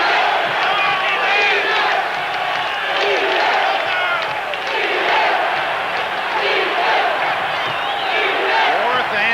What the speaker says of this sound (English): Listen to this crowd as many are on their feet.